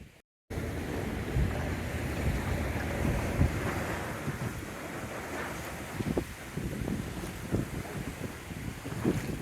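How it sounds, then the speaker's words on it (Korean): Wind picks up at sea off Long Beach, California, a steady rushing roar buffeting the microphone with waves and water slapping against a fishing boat, with no talking. "바람이 터지기 시작하네요"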